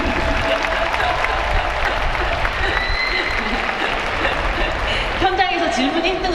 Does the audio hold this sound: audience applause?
yes